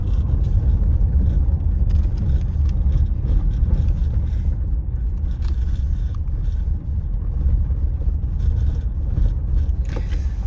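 Pickup truck rolls along a dirt track in wild weather, a heavy low engine rumble inside the cab with occasional rattles and knocks from the bumpy ground, steady and close throughout.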